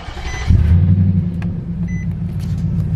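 A Nissan Titan truck fitted with a new exhaust starts with a brief low surge, then settles into a steady, quiet, deep idle rumble close by.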